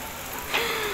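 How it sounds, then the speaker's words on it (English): Heavy rain falling on a cold day at a resort during a family road trip, a steady dense hiss that runs through the whole short moment with no voices. "It's still raining hard here."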